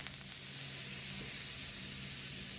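Butter sizzling in a pan with lamb chops, a steady, even crackling hiss, close but soft.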